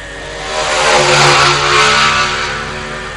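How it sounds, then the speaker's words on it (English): Racing motorcycles, including a Formula 3 class at a road race circuit, pass down the front straight with a loud, sustained engine roar that swells and fades as they go by. "Rest of the riders head their way down the front straight away now."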